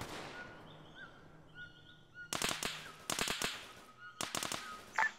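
Airsoft guns fire during a team operation outdoors: bursts of rapid, sharp cracks come in clusters after a quiet windy start, fairly close and loud, with faint birdsong in the background.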